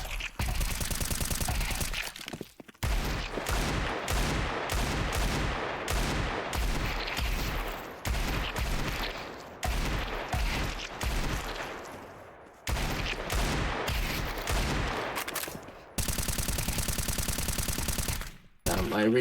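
Rapid automatic gunfire from the video game CS2 during aim training rattles in long, loud sustained bursts split by brief pauses, close and dense, with little talk.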